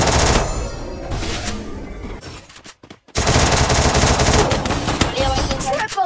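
Rapid bursts of Mag-7 shotgun fire in a Free Fire match, loud and dense, broken by a short near-silent gap before heavy firing resumes.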